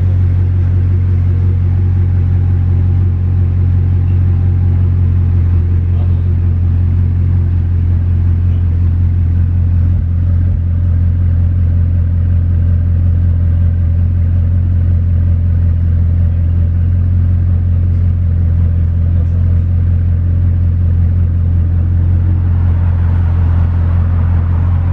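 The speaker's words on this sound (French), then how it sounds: "la Ferrari jaune qui vient de passer de B14 à fond avec les Mercedes qui le suivent en convoi" Yellow Ferrari at full throttle passing with a convoy of Mercedes cars in Monaco, heard as a continuous heavy low engine rumble that stays loud and steady throughout, with no voices.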